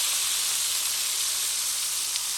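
Tomatoes frying in a pan for a merguez omelette, a steady soft sizzle with a faint hiss throughout and no talking.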